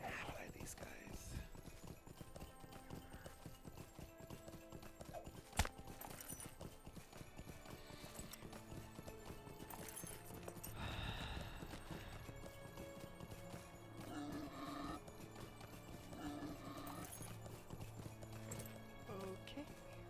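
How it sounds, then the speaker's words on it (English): Horse hooves clip-clop steadily through a video game as a ridden mount moves along, the rhythmic beats continuing under a man's speech and game background sound. "So let's get on my horse."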